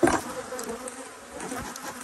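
Bees buzz faintly around an apiary hive, a soft, steady droning hum with a brief louder pass near the start.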